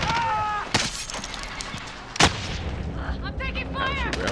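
Gunfire in Call of Duty: Modern Warfare: two sharp, loud shots about a second and a half apart cut through a busy game mix, with voices and electronic chirps layered around them.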